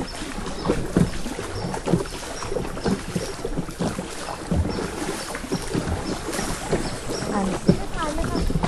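A boat carries passengers toward Le Khao Kob cave in Trang, Thailand, with continuous engine and water wash under wind buffeting, while someone speaks over the noise.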